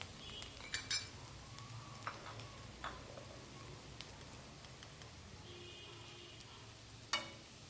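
Chicken Hakka noodles sizzle quietly in a pan, with a soft steady crackle broken by occasional light clinks and taps of a utensil, and no talking.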